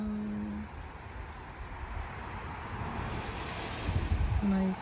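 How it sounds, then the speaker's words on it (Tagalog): Cold wind blows outdoors around a house during a snowfall, a steady rushing roar at close range that swells into stronger gusts near the end. "Naririnig niyo po yung hangin."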